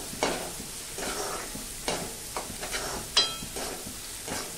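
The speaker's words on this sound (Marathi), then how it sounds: "हा कांदा छान मस्तपैकी परतून घेऊया" Salted onions sauté in a pan for dal tadka, a low sizzle broken by a series of spatula scrapes and stirring strokes at a close distance, with no one speaking.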